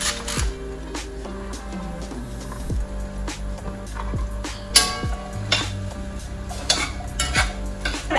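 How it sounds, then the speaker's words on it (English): A kitchen knife rough-chops celery for chicken noodle soup, giving quick uneven knocks on a cutting board among scattered clinks of utensils and cookware, close and fairly crisp. "With the celery, I just sort of rough chop again."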